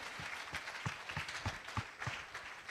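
A church congregation claps in a steady rhythm during worship, sharp claps about three per second. The sound is soft and distant, with no clear speech over it.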